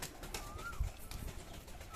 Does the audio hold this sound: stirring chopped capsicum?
no